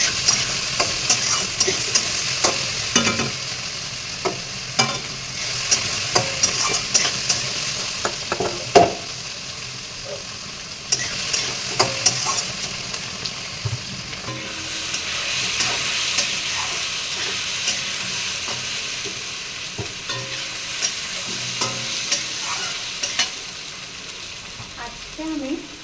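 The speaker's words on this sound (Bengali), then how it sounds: "এরকম করে ভালোভাবে নেড়ে নিতে হবে।" A spoon stirs fish curry with cucumber in a hot pan, scraping and clinking in bursts over a constant sizzle and hiss of frying, with no talking.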